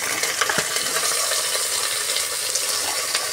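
Vegetables with ginger paste, carrots and beans sizzle in a pan for a curry, giving a continuous close hiss with soft scraping and stirring clatter.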